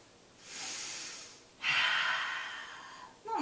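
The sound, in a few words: breathing in and out during yoga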